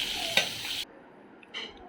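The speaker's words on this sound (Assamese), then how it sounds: "ইয়াতে ঢালি দিছোঁ আৰু দি ধুনীয়াকৈ লৰাই আছোঁ" Ridge gourd is stirred in a hot pan, giving a soft scraping sizzle that cuts off abruptly, followed by near quiet and a brief second burst of hissing, close by with no speech.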